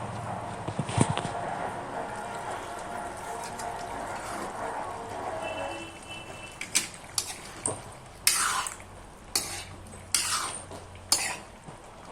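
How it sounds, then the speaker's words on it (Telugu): Chicken pieces being stirred as they fry in a pan, with a run of sharp, rhythmic scraping clinks of a spoon against metal over a low sizzling hiss. "2 నిమిషాలకు ఒకసారి చికెన్ అయితే ఇలాగా కలుపుకోవాలి"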